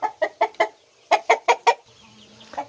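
Chicken held for vaccination clucking loudly and close, two rapid bursts of four sharp clucks each, followed by a quieter cluck after a brief pause.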